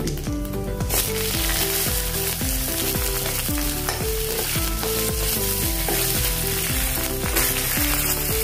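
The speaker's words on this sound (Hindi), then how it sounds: "और जीरा डाल देंगे आधा चम्मच, और हींग डालेंगे अभी। और हरी मिर्च डालेंगे" Cumin, asafoetida and green chillies sizzle in hot oil as a steady, close crackling hiss that runs throughout, partly covered by loud rhythmic background music.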